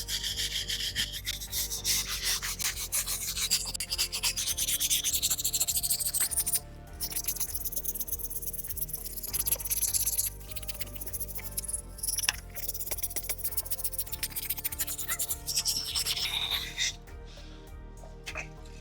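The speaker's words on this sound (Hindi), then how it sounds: "इस तरह का वायर ब्रश लीजिए या फिर इस तरह का लकड़ी का जो भी आता है, और अच्छे से घिसिए" A wire brush scrubs steadily at a crack in a wall, a continuous rough, close rasping scratch that runs on at length with only brief pauses.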